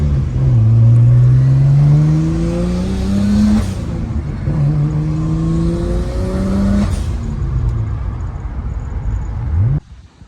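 A Nissan R32 Skyline with a touchy clutch drives and accelerates, its engine loud and close with two rising rev sweeps separated by a brief shift, before cutting off abruptly near the end.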